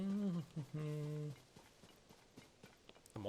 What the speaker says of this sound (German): Monster zu Pferde unterwegs oder was?